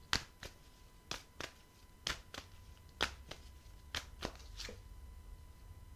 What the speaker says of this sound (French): Je vais prendre 2-3 cartes du chakra.